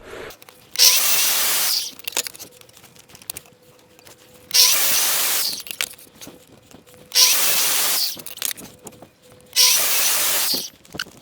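A Metabo mitre saw cuts laminate flooring in four loud, separate bursts of high whining and cutting noise, each about a second long, with quieter gaps and soft handling sounds in between.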